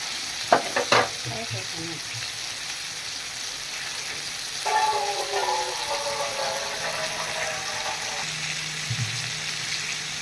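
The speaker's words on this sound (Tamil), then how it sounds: "நல்லா எண்ணெயில் வறுத்துக்கணும்." Mutton pieces with tomatoes and spices fry in oil for biryani, giving a steady low sizzle with a few clanks from stirring and a brief bubbling patch midway, faint and with no talking.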